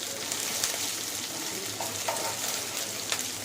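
Garlic and ginger paste fries and gets stirred in a hot pan for a pointed gourd masala, a dense continuous sizzle with light scraping stir strokes, close and loud, no voices.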